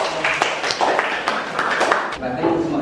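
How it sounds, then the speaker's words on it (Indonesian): Students in a classroom clap in a short, uneven burst, sharp hand slaps scattered among overlapping voices of people talking nearby. "Tepuk tangannya dong"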